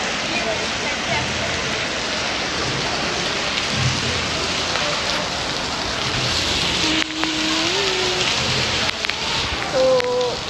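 Heavy rain pours down beside a lake near a temple, a thick continuous roar lasting the whole stretch, with a few faint tonal chirps rising over it.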